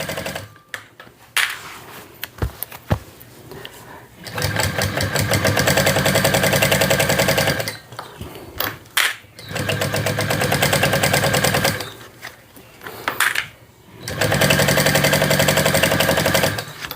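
A sewing machine stitches coral thread onto a green sling hip bag, running in loud, even bursts of rapid mechanical whirring a few seconds long, separated by short pauses with faint handling clicks.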